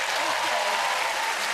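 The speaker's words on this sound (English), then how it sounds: "Big round of applause for Jackie and Matt." Studio audience applause on a British TV talent game show, a dense steady wash of clapping sustained at even loudness throughout.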